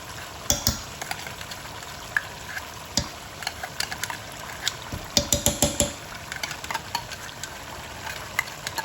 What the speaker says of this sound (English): let this fry for about 7 to 8 minutes